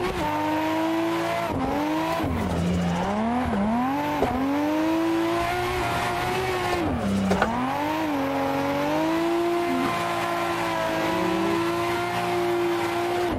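A Nissan R32 racing around Lime Rock in Assetto Corsa, its engine loud and close, revving up and dropping through repeated gear shifts, with tire squeal mixed in and no talking.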